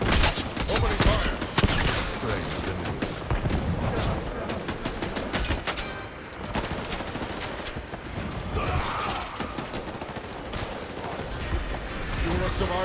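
Sustained gunfire from the video game Highguard during an end-of-match siege, with dense overlapping automatic bursts and shots filling the whole stretch at a steady loud level, and a voice talking over the battle throughout.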